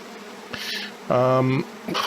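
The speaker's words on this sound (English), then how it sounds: "Hello, Mr. Bees." Bees buzz in the H1Z1 survival game, a soft drone swelling into a louder, close buzz for about half a second before fading again, with no talk over it.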